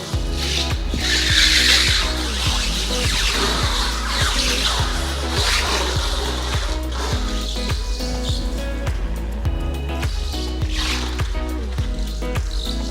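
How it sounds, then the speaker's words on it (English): High-pitched rubbery squeals of a Swagtron T6 hoverboard's new small tires skidding on a hard floor repeat over a steady, loud rhythmic background. "Listen to those brand new tires squealing on the floor."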